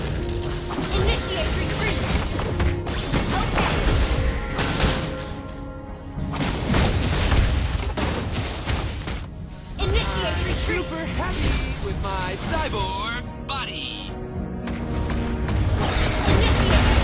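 Crashing, booming bursts mark a turret being destroyed in Mobile Legends, loud and layered over dense, continuous game music and effects, with a voice heard in the mix.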